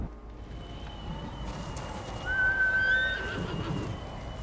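A horse whinnies in the video game Ghost of Tsushima, a brief rising neigh standing out over a steady, busy background of outdoor game ambience.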